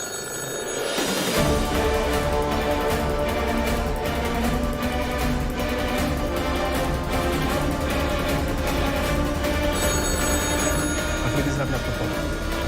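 A telephone rings repeatedly in a 2025 Hindi action movie, a steady loud bell ring pulsing on and off under background music and speech.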